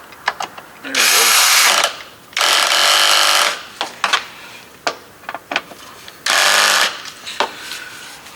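A Craftsman 7.2-volt cordless drill screwdriver, several years old, drives a screw in three loud whirring bursts of about a second each, separated by clicks and handling noises.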